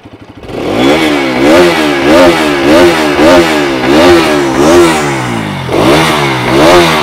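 A Bajaj Pulsar RS 200 motorcycle engine revs repeatedly, rising and falling in steady surges, loud and close with no talking.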